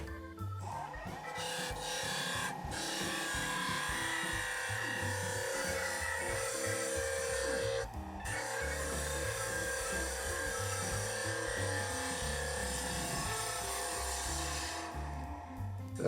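Wood lathe spinning at 2000 RPM while a freshly honed gouge cuts a thin goblet, giving a continuous scraping, rasping hiss over a steady motor hum, briefly interrupted twice as the tool lifts off.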